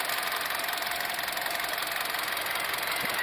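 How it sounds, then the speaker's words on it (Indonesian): The 1500 cc engine of a Hyundai Creta runs at a steady idle, an even mechanical hum with a fine ticking rhythm heard close up with no talk. "Ini mesin Hyundai 1500 cc"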